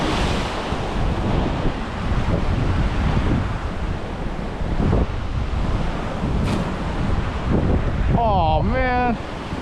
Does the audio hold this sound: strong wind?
yes